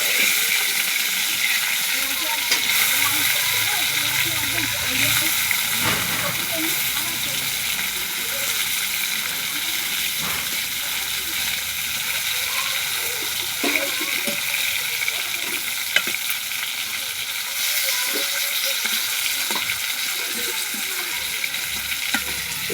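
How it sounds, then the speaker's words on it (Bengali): Fish frying in oil in a pan, with a steady, loud sizzling hiss throughout and a few faint clinks and scrapes as the fish is turned, with occasional voices in the background. "এখন মাছ ভাজা হয়ে গেছে, এই দিকটা উল্টে দেবো"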